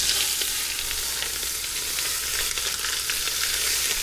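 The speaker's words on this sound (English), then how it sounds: "Now that we see our oil smoking, it means it's time for us to sear the meat" Beef sears in smoking-hot oil at the bottom of a pot for a pot roast, a dense, loud, continuous sizzle with faint scraping beneath.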